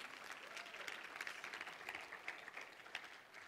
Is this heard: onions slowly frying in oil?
no